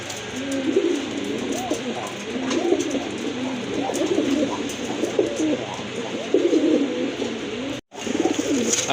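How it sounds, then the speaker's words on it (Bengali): A red checker pigeon coos repeatedly and steadily, close and fairly loud, with voices talking over the calls. "অনেক ডাকে কবুতরটা"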